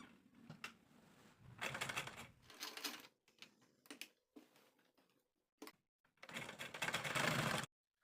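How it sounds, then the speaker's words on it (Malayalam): A sewing machine double-stitching the joined ends of an elastic band for a waist-elastic dress, giving close, rapid mechanical runs of stitching in several short bursts separated by pauses. "അപ്പോൾ ഇതുപോലെ വെച്ചിട്ട് നന്നായിട്ടൊന്ന് ഡബിൾ സ്റ്റിച്ച് ചെയ്ത് കൊടുക്കുക."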